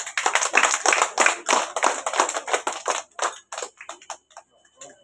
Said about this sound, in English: Clap your hand all.